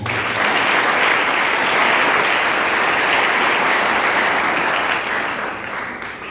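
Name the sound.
congregation applauding in church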